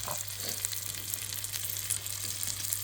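Pears fry in butter in a pan, giving a close, steady sizzle and crackle with occasional stirring scrapes and no voices.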